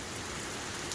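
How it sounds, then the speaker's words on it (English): Pouring rain during a thunderstorm, a dense, steady hiss of drops on surfaces, moderately loud and continuous, with no voices or thunder in this short stretch. "Videotaping the rain."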